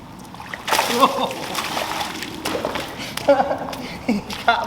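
A caught river fish splashes loudly as it is released back into the water, several sloshing bursts close by amid outdoor voices.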